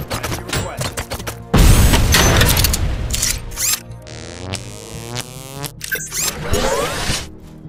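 A frag grenade bursts in RoboCop: Rogue City, a sudden loud crash after a brief lead-in, followed by crackling debris and whooshing tails, with other clattering game effects around it.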